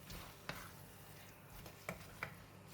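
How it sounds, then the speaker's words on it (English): Marinated pork belly stirred through curry paste in a pan for a tapioca leaf coconut curry, giving a soft low sizzle with three distinct spoon scrapes against the pan, fairly quiet throughout. "Give it a stir until the pork belly is well coated with the curry paste."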